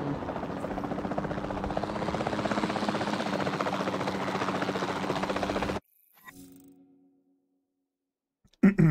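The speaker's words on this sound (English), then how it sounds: "Then the sensible thing is to take a capture team helicopter." A capture team helicopter in Jurassic World Evolution 2 flies with a steady, loud rotor drone for about six seconds, then cuts off abruptly, leaving a brief mechanical clunk and near silence.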